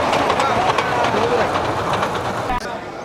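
A ride-on children's toy train rolls along its track at the Gazipur trade fair, a brief continuous rumble blended into loud crowd chatter and fairground bustle.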